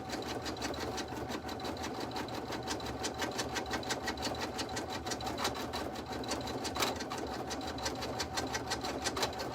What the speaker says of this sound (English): tack down or stitch out our exterior piece